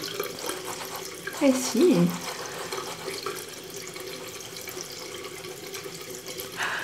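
Water runs from a tap to rewet a small brush, a soft splashing stream most prominent near the start and fading into quieter running under brief talk.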